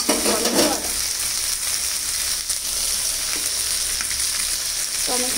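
Tomatoes frying with spices and potatoes in a pan for an aubergine and lentil-dumpling curry, a steady loud sizzle throughout with a few brief stirring scrapes, no voices.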